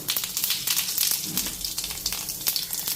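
Cumin seeds and bay leaves tempering in hot oil for a taro stem curry, a steady close crackling sizzle with scattered pops throughout.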